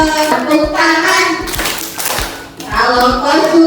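Children at a preschool gathering clap their hands in a sing-along, several short sharp claps in a loose rhythm, heard between and under a sung melody.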